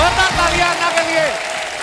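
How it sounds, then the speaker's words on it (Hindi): Studio audience applause on a Hindi TV comedy show welcoming the host to the stage, a steady wash of clapping running under a voice for nearly two seconds. "जोरदार तालियां अन्ना के लिए।"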